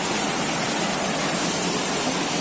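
Water rushing loudly and continuously through a mountain stream in the remote forest of Gunung Sawal, a dense, unbroken roar close by with no voices.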